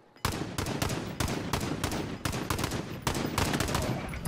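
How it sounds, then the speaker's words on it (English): Rapid bursts of video game gunfire crack out in clustered volleys across a firefight, loud and close, with short gaps between strings of shots and no talk over them. "Enemy contact! He's getting shot at."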